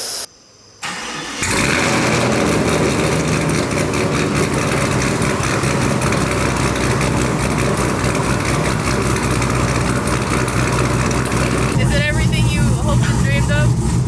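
A Chevrolet Camaro fitted with a Speed Engineering X pipe cranks over and settles into a steady, loud exhaust drone that runs close to the microphone for most of the stretch, while a person talks over it.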